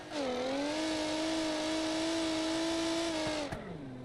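A Formula Drift car engine held at a high, steady rev, a loud, close droning whine that holds for several seconds before dropping abruptly, then settling to a lower tone.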